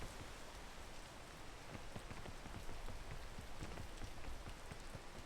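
Steady rain from the video game PEAK patters densely and evenly throughout, a close, continuous hiss of drops striking surfaces with scattered sharper taps, with no voices.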